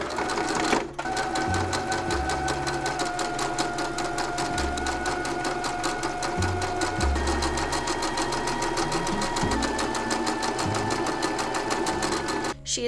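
A sewing machine hems a scrap-fabric bento bag, running as a close, steady mechanical whir of fast stitching with brief pauses and shifts in motor pitch.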